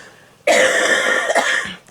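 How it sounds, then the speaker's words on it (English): A person lets out a loud, harsh cough burst close by, followed by a second, shorter cough, with no talking. The setting is a parked spot on Alaska's Kenai Peninsula. "Cover your cough, cover your cough."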